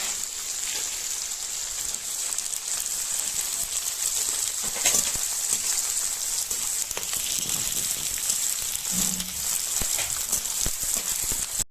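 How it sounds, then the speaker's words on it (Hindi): Edible gum (gond) fries in hot ghee with a soft, steady crackling sizzle like light rain, close by and continuous throughout with no speech. "अब हम ये अपना जो दूसरी बार का गोंद है इसको भी अच्छे से थोड़ा थोड़ा डाल के ही तल लेंगे।"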